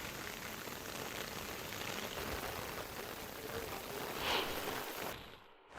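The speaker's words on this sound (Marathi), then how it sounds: "आज पुन्हा एकदा तालुक्यामध्ये जोरदार पाऊस पडतोय" Heavy monsoon rain pours down in Ambarnath taluka near the flooding Ulhas river, a dense, even hiss of drops on surfaces that holds steady and alone before cutting off abruptly near the end.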